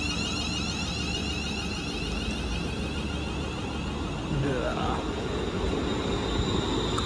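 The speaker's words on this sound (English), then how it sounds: "here's my train over to Garston" A train on the Abbey Line to Garston rolls past with a steady roar of wheels on rails, high metallic squeals, and a louder swell near the end.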